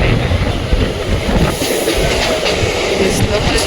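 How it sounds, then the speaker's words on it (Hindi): A Mumbai local train rumbles steadily with broadband rattling noise throughout, close and loud, with faint voices in the background. "ये है लोकल ट्रेन"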